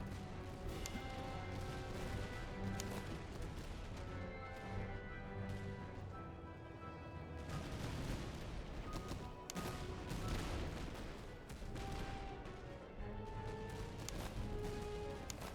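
Musket volleys and battlefield gunfire from the Master of Command game, a dense continuous crackle of many shots layered over game music and battle noise, moderately loud throughout.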